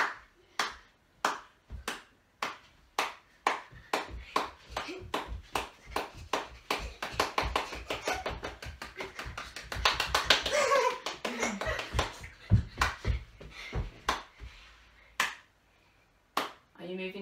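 Young children in a Reception and Year 1–2 PE lesson clap along in a steady rhythmic beat of sharp handclaps, some spaced and some rapid, growing denser and busier in the middle before thinning out again.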